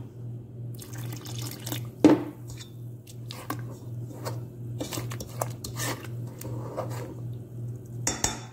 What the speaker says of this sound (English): So add warm water.